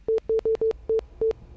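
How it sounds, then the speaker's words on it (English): In the horror game Close Your Eyes, a notification plays as six short, identical electronic beeps in an uneven rhythm. The tones are clean and fairly loud, with nothing else heard. "What's that little notification?"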